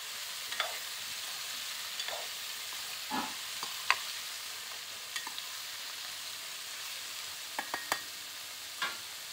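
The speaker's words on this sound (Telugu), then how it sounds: "ఒకసారి అంతా ఇలా వేసిన తర్వాత ఆయిల్, పచ్చిమిర్చి అంతా కూడా ఇలా ఒకసారి కలియాలి." Ivy gourd curry with oil and green chillies being stirred in a pan, with soft scraping strokes and a low sizzle of frying, quiet and close with no talk.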